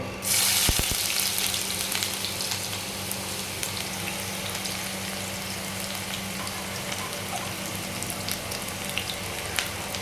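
Onion, ginger and garlic fry in oil in a pan for a Telugu-style chicken curry, a loud continuous hiss and crackle beginning abruptly and holding steady, with a low background hum and no speech.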